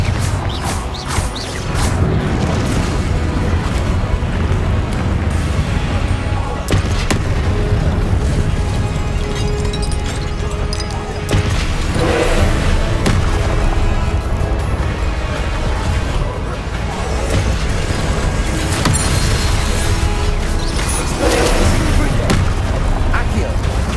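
Fire-blast spell bursts in the Hogwarts Legacy video game, a dense and loud barrage of booms and crackles mixed into busy combat noise, with spell incantations shouted throughout.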